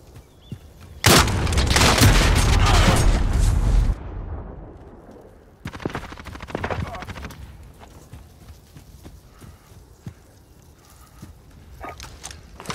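Gunfire in the shooter game Call of Duty: Modern Warfare during a headquarters match: a loud sustained burst of automatic fire, then a pause and scattered shorter volleys and distant shots.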